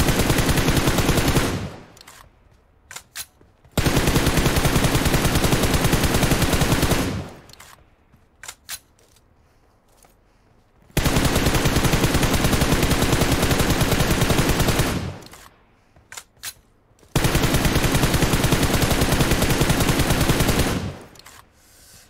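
M4 rifle gunfire in the mobile game BGMI, long sustained full-auto bursts of several seconds each, loud and close, separated by short pauses with a few isolated shots between.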